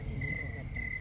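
Crickets chirping faintly on a calm village night in rural Bengal, a thin high steady trill over low soft background noise, with no voices.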